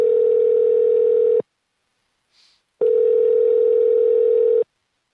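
Steady telephone dial tone on a phone line, heard loud in two long stretches separated by a short silence with a faint click between.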